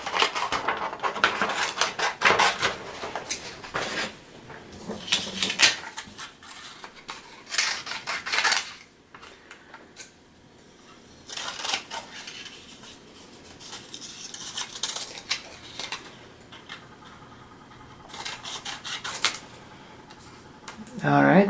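Scissors snip through a sheet of yellow craft paper in repeated close crisp bursts. The cutting comes in uneven runs with brief pauses, and light handling rustle fills the gaps.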